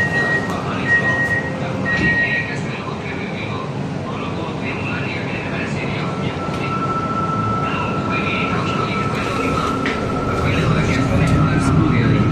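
Interior rumble of an MRT train running from Damansara toward KLCC in Kuala Lumpur, a steady low drone with rising and falling whine throughout, brief chimes and faint voices in the carriage.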